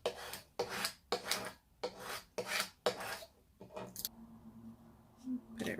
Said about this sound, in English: So I'm gonna scrape it, that way it's nice and stuck to the transfer tape.